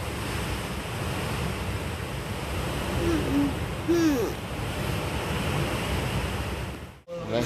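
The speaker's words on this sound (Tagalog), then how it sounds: "Halos mabunutin na ng hangin yung aming puno dito sa harapan" Loud, steady roaring typhoon wind in Pangasinan buffets the microphone with broadband rushing noise, a few faint bird-like calls in the middle, then a sudden brief dropout near the end.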